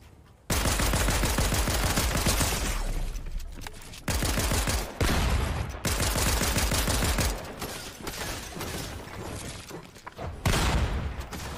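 Assault rifle fire in a competitive shooter video game: loud sustained bursts of automatic shots with short gaps between volleys, alone without talk.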